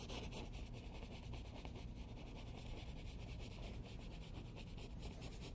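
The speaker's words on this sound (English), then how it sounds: "this is how you blend, by turning your brush sideways and scrubbing" A brush turned sideways scrubs oil paint onto canvas to blend clouds, a soft, continuous rapid rubbing and scratching with a fast back-and-forth rhythm, close and quiet, with no talk.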